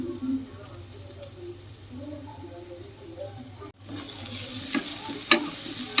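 Chopped mint leaves fry in a pan for biryani, a soft sizzle that turns brighter midway, with scattered stirring scrapes and clicks up close; a voice talks faintly in the first half.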